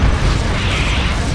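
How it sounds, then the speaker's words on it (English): Loud, dense rumbling blasts from a strafing run in the Dawn of War video game, a continuous barrage of explosions and mechanical clatter filling the whole moment with no pause. "Fire control, initiate strafing run."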